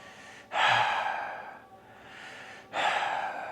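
Deep, deliberate breathwork breaths in a quiet room: two long, loud airy inhalations with a softer exhale between, close and alone with no talking.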